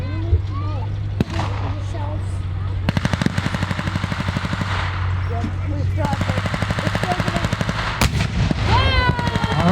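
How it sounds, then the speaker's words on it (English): An M18 Hellcat's 76mm cannon booms with sharp single blasts at a WWII reenactment battle, amid long rattling bursts of machine-gun fire, loud and close, with a few voices in the background. "that's what a 76mm cannon sounds like"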